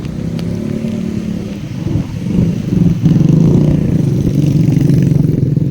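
An automatic motor scooter engine hums and rumbles steadily up close while riding, growing louder and rougher partway through, with no voices.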